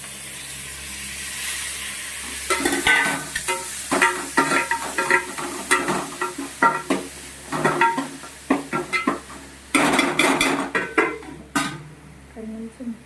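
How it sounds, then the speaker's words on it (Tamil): Tomatoes sautéing in a pan after a pinch of turmeric, with a steady sizzle broken by repeated stirring scrapes and clinks of a spoon against the pan; close and moderately loud, no talking. "ரெண்டு நிமிஷம் கொஞ்சம் நல்லா தக்காளி வதங்கட்டும்"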